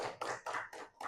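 Brief applause in a school classroom, several bursts of hand clapping from a small group of students, close and fairly quiet.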